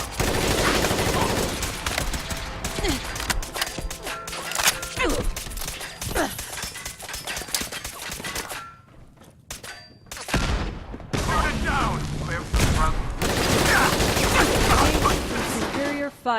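Bursts of rapid automatic gunfire and heavy weapon shots in the post-apocalyptic video game Fallout 4, dense and loud for most of the stretch with a brief lull in the middle and a voice speaking among the shots.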